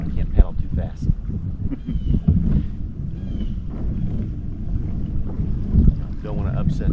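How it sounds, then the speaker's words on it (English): A small boat is paddled slowly across a lake in a no-wake zone on a drizzly day, with soft water splashes and knocks under steady wind buffeting the microphone and faint background voices. "I am in a no wake zone, so you know I can't paddle too fast."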